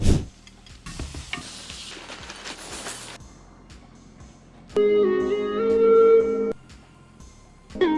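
Eggs fry with kavurma (braised meat) in a pan, giving a brief sizzle and stirring scrape. Beeping tones and background music follow.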